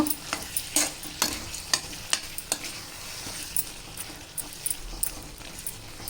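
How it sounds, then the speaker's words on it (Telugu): A spoon stirs ridge gourd and prawn curry in a hot pan, sharp scraping strokes against the metal repeating quickly over a steady sizzle that carries on beneath them. "అన్నీ వేసి బాగా కలుపుకోవాలండి మనము."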